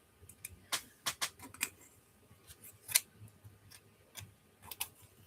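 Scissors snipping through paper or craft material for a boho journal, a quiet run of sharp, irregular clicks and snips up close, with faint room noise between cuts.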